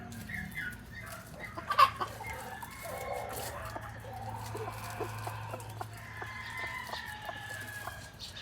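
Chickens cluck and a rooster gives a short sharp call near the start amid farmyard ambience, with scattered quieter clucks continuing throughout at moderate distance.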